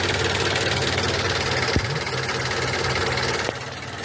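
A car engine idles with heavy vibration, a steady close low rumble and hum with a slight roughness, and a couple of faint clicks partway through.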